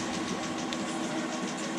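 A Land Rover Series 3 engine runs with its ignition firing, a fairly quiet, dense, even mechanical clatter and whir that holds steady without voices.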